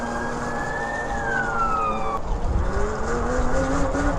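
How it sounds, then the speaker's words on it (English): An upgraded cheap e-bike motor whining like straight-cut gears, a continuous tonal whine that glides up and then down in pitch over steady road noise, close and prominent. "It sounds like straight cut gears"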